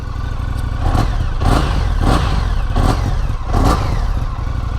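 A Triumph FTR1200 naked motorcycle with an Akrapovic exhaust runs loud and close, its engine idling roughly between four sharp throttle blips spaced about a second apart.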